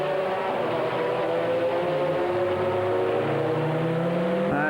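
A GT race car in the FIA GT 2000 series drives on track, its engine a loud, sustained roar with shifting pitch that rises near the end, steady throughout.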